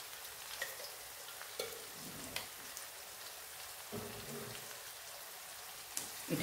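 Onion paste with sugar frying in a pan, a soft continuous sizzle with a few small clicks and stirring scrapes, close and quiet.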